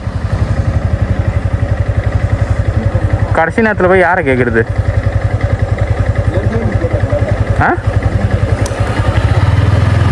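A motorcycle idles close by with a steady, even throb before a trip to the Kolli Hills, while people talk over the engine throughout.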